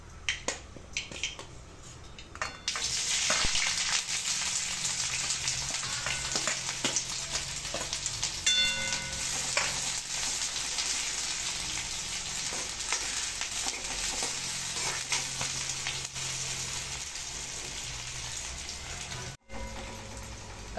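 Chopped onion frying in a couple of spoons of oil in a kadhai on a gas stove, tempered with cumin and mustard seeds: a steady, close sizzle that starts abruptly after a quiet moment and runs on with occasional stirring clicks.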